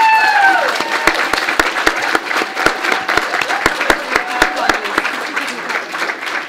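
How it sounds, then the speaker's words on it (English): Audience applause at a literary festival talk, a dense burst of many hands clapping that starts loud and stays fairly steady for several seconds before tapering slightly. "Please give her a round of applause."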